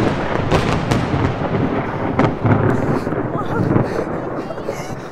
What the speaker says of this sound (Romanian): Ăsta da fulger.